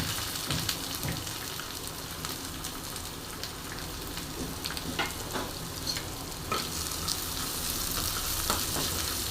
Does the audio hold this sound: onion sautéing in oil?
yes